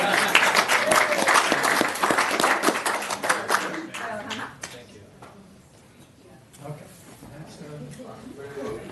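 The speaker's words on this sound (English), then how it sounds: "Can I get a round of applause for you?" Round of applause at a city council regular meeting in Manhattan Beach, a loud burst of clapping in the first half that fades to a quieter room with talk.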